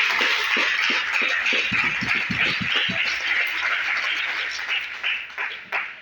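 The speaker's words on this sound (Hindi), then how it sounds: "जोरदार ताली होनी चाहिए" An audience claps at a business seminar, with distinct individual claps standing out early over a broad hiss of applause that gradually tapers off toward the end.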